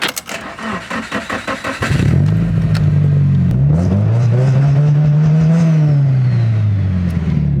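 An SR-Z car fitted with a Dream Turbo setup cranks over, fires up loudly after a couple of seconds, and then settles into a rough, throaty idle with a few rising revs and falling blips.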